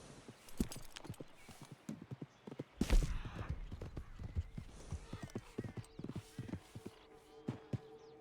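Hooves of a horse in a medieval role-play video game clip-clop steadily at close range, with one louder thud partway through and a faint whinny and buzzing insects in the ambience.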